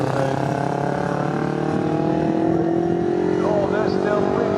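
MG Midget and Austin-Healey Sprite race cars at Snetterton, several engines droning and whining together at close range with overlapping rising tones, loud and continuous.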